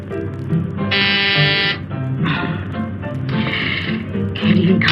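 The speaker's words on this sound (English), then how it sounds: "Stop pressing that buzzer." A door buzzer sounds repeatedly in loud, harsh electric bursts of varying length, mixed with background music and voices.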